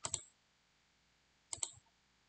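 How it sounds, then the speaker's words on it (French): Two quick double mouse clicks in a web app, crisp and close, separated by about a second and a half of near silence. "si on clique"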